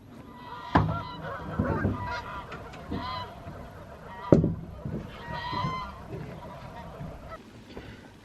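Geese honk repeatedly in loud, scattered bursts near a canal narrowboat in the evening, with a low background hum and a few sharp knocks between calls.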